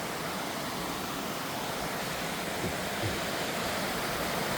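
A waterfall roars beside a trail on a snowy morning hike, a steady, dense rush of falling water that fills the whole scene without pause, heard up close and with no voices.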